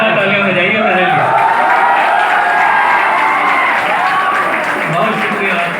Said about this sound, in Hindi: एक बार जोरदार तालियां बजाइए मेरे लिए।